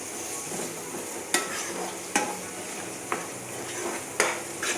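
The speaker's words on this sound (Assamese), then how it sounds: "পিঁয়াজ ভাজা হৈ গৈছেগৈ প্ৰায় এতিয়া এয়া আদা নহৰু পিঁয়াজৰ পেষ্ট আকৌ দি দিম" Onions frying in a pan for chicken pulao as ginger-garlic-onion paste goes in, a steady soft sizzle broken by several sharp clinks of a stirring spoon against the pot, close and quiet.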